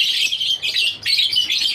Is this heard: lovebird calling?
yes